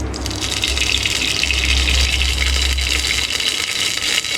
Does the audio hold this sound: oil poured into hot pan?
yes